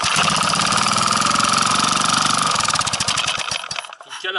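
A small moped engine on a test run, freshly fitted with its flywheel, revs steadily and loudly for several seconds with a dense buzzing drone, then sputters and falters toward the end as if stalling.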